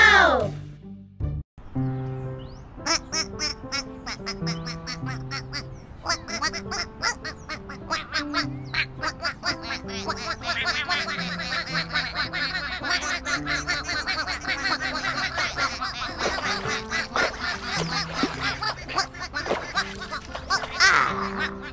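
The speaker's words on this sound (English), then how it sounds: "Big Blue made sure that all 12 ducklings found the pond." Cartoon ducklings quack in the Endless Numbers kids' counting app, with repeated bright quacks and honks over a bouncy musical backing, joined by playful laughter and a child-like voice.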